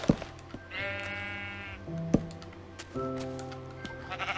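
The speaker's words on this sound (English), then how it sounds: "I gotta find some sheep." Sheep bleating in Minecraft Xbox 360 Edition, a few wavering nasal bleats near and clear with game thumps and faint background in between.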